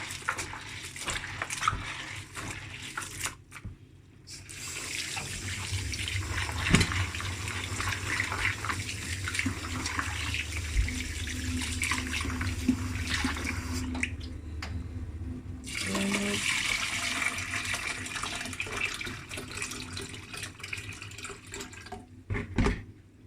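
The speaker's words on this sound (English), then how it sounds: "You wash it, you clean it, you rub the skin together, and you get it skin off." Soaked beans for moi moi (African bean cake) being washed and rubbed in water to strip their skins, with steady splashing, sloshing and running-water sounds close by for most of the stretch, interrupted by brief pauses.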